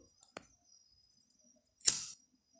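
A lighter is flicked to heat and seal a crochet cord: a faint click, then a short crisp scratch and hiss of the flint wheel, close and isolated in near silence.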